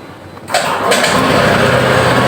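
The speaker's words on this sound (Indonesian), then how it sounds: "sekarang coba kita nyalain dan kita dengerin suara knalpotnya" A Suzuki Burgman Street 125cc scooter engine cranks and catches, then settles into a loud, steady running rumble close by.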